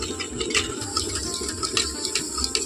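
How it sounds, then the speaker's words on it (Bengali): Water pours steadily from a bowl onto sesame seeds in a home kitchen, a continuous close splashing gurgle with small irregular splashes and no talking. "তিন বাটি জল এখানে দিলাম"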